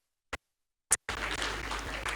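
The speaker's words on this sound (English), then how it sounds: "can you give him a round of applause" A few isolated claps, then sustained applause from a crowd at a PDP certificate of return ceremony in Ekiti begins and continues steadily, loud and dense.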